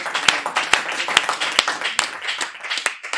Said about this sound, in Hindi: बहुत जोरदार तालियों से आमंत्रित करिए